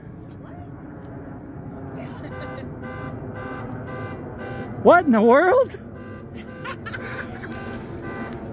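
A car alarm gives a short, loud, warbling electronic burst lasting under a second, close by, while people talk around it.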